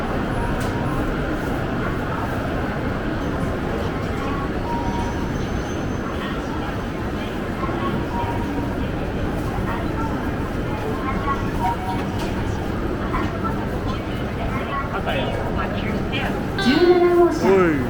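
Train running, heard from inside a reserved-seat passenger car as a steady rumble of wheels and motion, with voices talking over it near the end.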